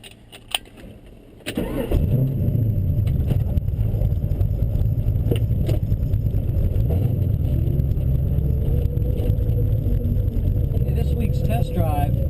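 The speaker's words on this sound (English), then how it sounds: "This week's test drive is on a 69 coupe." A 1969 coupe's engine fires up after a short quiet stretch of cabin handling, then runs steadily and loudly up close for the remainder of the drive.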